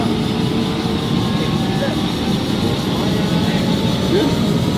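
A helicopter heard from inside the cabin during a flight over a festival, with a constant loud rotor and engine drone filling the space and a low, even rumble underneath.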